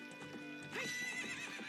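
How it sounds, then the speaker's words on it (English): A horse in the Ocarina of Time video game gives a loud, close whinny, with hoofbeat clip-clops running throughout the short burst. "the quickest way just to get on that horse"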